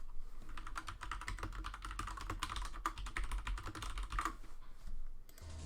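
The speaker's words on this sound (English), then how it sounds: "sorry about the keyboard mashing. I know it's kind of loud on the stream." Rapid, dense clatter of mechanical keyboard keys mashed during a Counter-Strike match, a busy close typing rattle running throughout with no voices.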